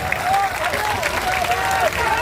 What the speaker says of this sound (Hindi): अब बजाओ ताली, अब बजाओ ताली।